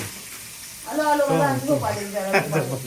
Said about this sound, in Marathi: आता आपल्या इथे बॉम्बिल फ्राय पण झालेले आहेत